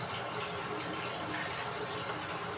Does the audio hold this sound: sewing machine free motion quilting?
no